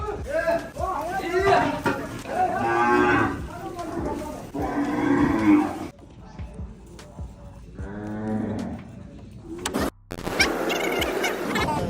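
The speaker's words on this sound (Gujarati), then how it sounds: "અમે ગાયો ને ખર ને કપાસિયા નાખવા આવ્યા છે" Cows at a farm being given fodder and cottonseed moo repeatedly and loudly, long drawn calls close by, with someone talking over and between them and some wind noise.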